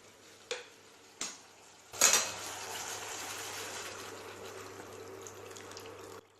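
Water pours into a pot of salted chickpeas for cooking in a kitchen, following a couple of light clinks, with a soft, continuous splash that runs for several seconds.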